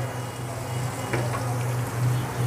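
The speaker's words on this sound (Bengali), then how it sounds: "এবার এতে আমি দিয়ে দেব আদা রসুনের পেস্ট।" Ginger garlic paste, lightly crushed rather than fully ground, fries in a pan for a chicken liver curry, giving a steady close sizzle and hiss with a faint hum underneath.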